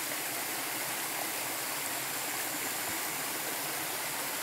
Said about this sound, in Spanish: es donde nace esta fuentecita de agua